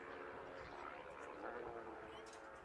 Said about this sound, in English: You hear them dropping down the gearbox, in through the chicane.